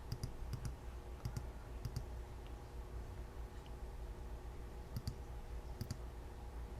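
A computer mouse clicks in short, crisp pairs and single taps at irregular intervals during layout editing, close and fairly quiet over a faint steady hum, with no voices.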